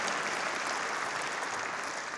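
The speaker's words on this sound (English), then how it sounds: "Give them a round of applause," Audience applause at a Macon-Bibb State of the Community program, a steady wash of clapping from a large crowd that holds at an even level throughout, with no talk over it.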